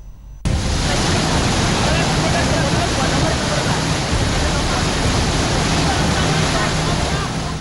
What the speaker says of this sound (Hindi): हिमाचल प्रदेश के चंबा में ग्लेशियर पिघला तो एकाएक नदी में बाढ़ आ गई